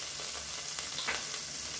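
Steady hot-oil sizzle from a pan of oil rendered from chicken, continuous crackling hiss with a few louder pops, close and moderately loud, no voices.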